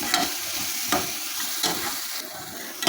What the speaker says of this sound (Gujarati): આદુ મરચાં અને લસણ ડુંગળી બધું સરસ સંતળાઈ ગયું છે